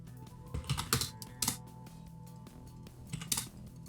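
Typing on a computer keyboard: uneven bursts of clicking keys, close and moderately loud, with a few sharper strikes standing out.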